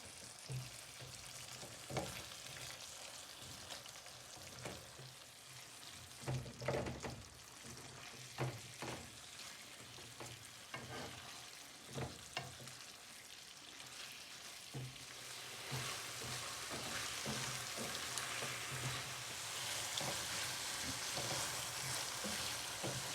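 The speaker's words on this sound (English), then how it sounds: "and let it all the moisture get absorbed. Stirring." Pumpkin and sweet potato subji sizzles in a pan while a spoon stirs it, with soft scraping taps over a continuous frying hiss that grows slightly louder toward the end.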